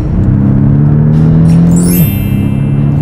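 Porsche 718 Boxster with a 300 hp turbocharged engine in Sport (S) mode, its exhaust droning steadily, then a sharp rev shift as the PDK gearbox changes gear; loud, close and continuous with no voices.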